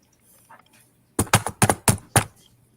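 Sharp clicking from someone chewing beef jerky, a burst of six or so loud, crisp snaps close to the microphone, following a faint earlier click.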